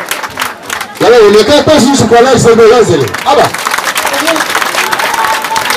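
Audience applause at a yam festival in Ghana, a crowd clapping loudly and steadily beneath someone speaking over it.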